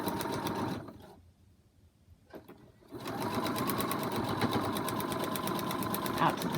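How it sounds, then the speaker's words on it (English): A sewing machine runs steadily, stitching fabric along a line on a foundation paper pieced butterfly block, with a brief pause before it resumes and continues close and loud. "you're going to sew all the way across that line number 9"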